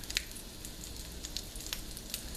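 A flipped crab cake fries in a pan with a close, continuous sizzle and sharp little crackles and pops sprinkled over it, no voices.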